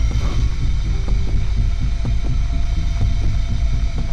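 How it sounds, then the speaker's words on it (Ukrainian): A vacuum cleaner running inside the Hello Neighbor video game gives a steady, loud droning hum with a low rhythmic throbbing underneath, continuous and unbroken throughout. "Він що пилосос включив?"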